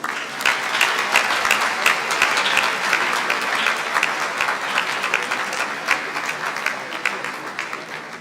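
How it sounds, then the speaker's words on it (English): An audience applauds steadily to welcome a speaker, Honorable Kwame Sarah Mensah, at a dialogue series event, with dense, sustained clapping that fills the room and holds fairly constant throughout. "with a round of applause once again, let's welcome Honorable Kwame Sarah Mensah"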